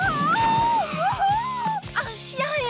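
A cartoon dog gives high, wavering whimpers and whines, close and fairly loud, broken up by short rhythmic thumps and bursts of talk.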